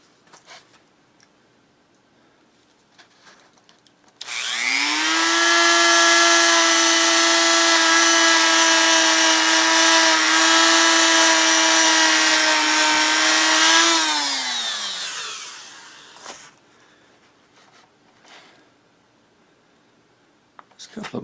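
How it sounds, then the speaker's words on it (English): Dremel rotary tool fitted with a wire brush works a metal part on a drill grinder, a high, steady whine that spins up, holds for about ten seconds and winds down, with brief handling clicks before and after. "I want to hit that with a wire brush on with my Dremel tool right quick."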